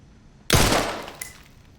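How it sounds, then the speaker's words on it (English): A gun fires at a prison cell in the video game Resident Evil Requiem, giving a single loud, sharp blast that rings out and decays over about a second, with a faint metallic echo trailing behind. "shooting at Emily's cell will cause her to flinch"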